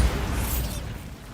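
A single loud explosion from the Bombarda spell in the Hogwarts Legacy video game, a deep booming burst that quickly fades.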